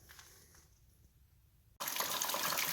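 After a quiet pause, coolant from a Kubota tractor's open water pump housing suddenly gushes out in a steady, splashing pour that continues until the end.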